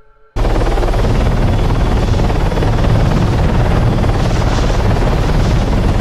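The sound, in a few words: helicopter flight from a video game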